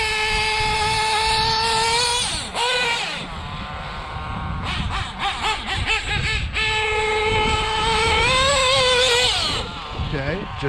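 A Hobao Hyper 7 nitro RC car's .28 engine screams at high revs up close, dips and buzzes through quick throttle blips, then wails again.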